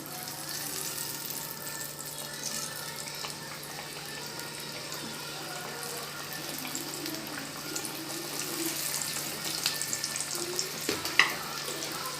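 Onion samosas deep-frying in hot oil in a kadai over a medium flame, giving a steady, soft bubbling hiss throughout with a few light clinks of utensils near the end.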